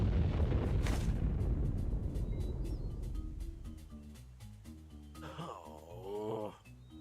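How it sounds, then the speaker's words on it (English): Explosion in the video game Loco Motive: a loud rumbling boom with a sharp crack at the start that slowly decays, followed by a groaning, wailing voice-like sound. "That was quite the explosion."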